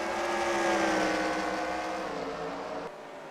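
A NASCAR Racing 2003 stock car at Sonoma roars at high revs, a loud sustained engine drone with a slowly falling pitch, ending in a sudden drop in level.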